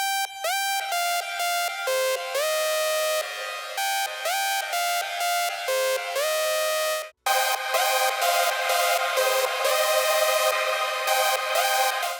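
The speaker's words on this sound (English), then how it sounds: "LFO can be used in many ways, but one way is to make the pitch oscillate up and down really fast." Hardstyle lead built from a saw synth patch, its pitch wobbling rapidly up and down under a fast LFO, played as a series of sustained bright notes with a brief cut near the middle.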